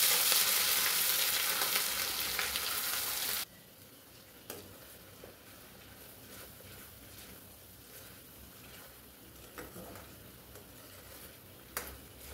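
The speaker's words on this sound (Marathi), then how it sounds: "तेल तापलेलं आहे, त्यामध्ये मोहरी आणि हे मसाल्याचं जे वाटण केलेलं आहे ते वाटण त्यामध्ये मी टाकून घेणार आहे" Mustard seeds and ground masala paste hitting hot oil, a loud burst of sizzling that drops abruptly to a quieter steady fry with occasional spatters and stirring clicks.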